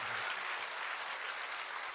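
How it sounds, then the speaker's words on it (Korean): Congregation in a Korean church sermon breaking into sustained, dense applause, a steady wash of many hands clapping together with no pauses and no voices rising above it. "하나님께 영광의 박수입니다."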